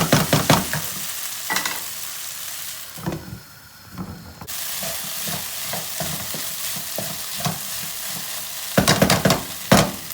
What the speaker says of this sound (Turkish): Kapağı açtım ara ara karıştırıyorum.